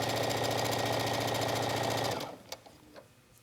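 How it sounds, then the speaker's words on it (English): Sewing machine stitching knit fabric for a T-shirt, a fast even mechanical whir running close and steady for about two seconds, then stopping into quiet with a couple of small clicks and handling sounds. "just line up your fabric and stitch."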